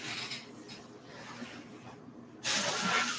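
Aerosol spray hissing onto a burning hand in a bathroom-type setting, a loud sustained burst arriving near the end after quieter rustling and handling noise.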